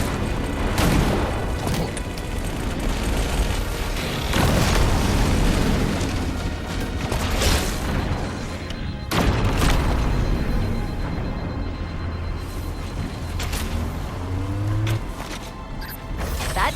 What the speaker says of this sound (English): That did it. The pulse generator overloaded.